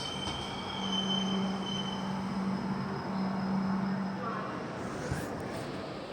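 The 15128 New Delhi–Banaras Kashi Vishwanath Express pulls into Banaras station with a steady, close rumble and a sustained metallic wheel squeal that runs through the whole stretch, with some voices in the background.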